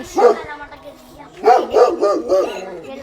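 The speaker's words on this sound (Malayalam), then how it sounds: "ഇവിടെ വലിയൊരു നായുണ്ട്." Several deep barks from a large dog, a single bark then a quick run of three or four, close and loud.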